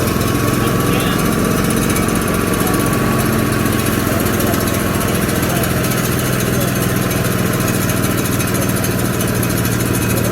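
An Allis lawn mower engine running hard on a dyno at a Father's Day show, a loud, constant rattling roar that holds at full power without a break for the whole stretch.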